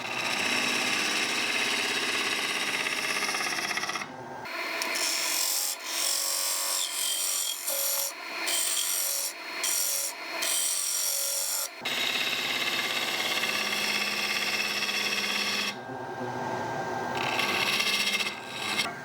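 A gouge cuts an octagonal winged wooden bowl spinning on a lathe, with loud, scraping passes broken by short gaps, close and rough with some vibration in the piece.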